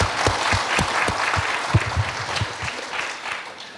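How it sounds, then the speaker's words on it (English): Audience at a ministerial population review panel applauds the panelists, a steady burst of clapping with sharp individual claps standing out, moderately loud throughout. "please help me to give an applause to the panelists"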